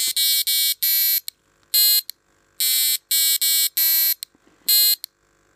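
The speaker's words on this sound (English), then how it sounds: "5 is the buzzer." Electronic buzzer in a homemade music box sounds a series of loud, bright tonal bursts of varying length and pitch, separated by short silences, with no talking.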